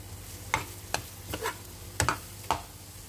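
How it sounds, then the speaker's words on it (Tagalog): Crab sticks fry in garlic butter in a pan, with a quiet sizzle broken by about half a dozen sharp scrapes and taps of a utensil stirring them. "So, hayaan muna natin maluto yung ating crab stick."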